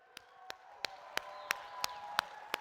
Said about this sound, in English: One more round of applause for Deepak and Johnny Twilight.